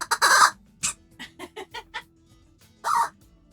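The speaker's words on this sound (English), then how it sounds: "That's the sound of a small rubber chicken being murdered by Lord Doyle." Loud, raspy squawks from a small rubber chicken toy being mauled by Lord Doyle come in uneven bursts: a long opening honk, a string of shorter squeaks, a pause, then one more drawn-out cry, all close and clear.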